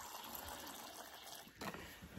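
Water trickles into a pet's water dish in an enclosure, a faint thin pour that runs steadily with a brief dip before picking up again.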